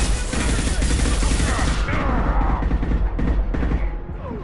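Rapid volleys of gunfire in Mass Effect 2 at a factory conveyor line, dense and loud for about two seconds, then more scattered shots with clanking debris.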